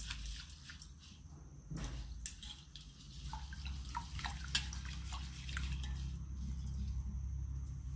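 Water from soaked moong and masoor dal drained off in a kitchen, dripping and trickling steadily at close range for the whole stretch, with a soft splash near the start and no talking.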